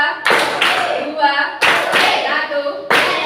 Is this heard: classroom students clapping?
yes